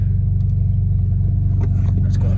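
An Acura RSX engine idling warm on a mild day, a steady low rumble throughout with faint clicks and small noises on top, close and continuous.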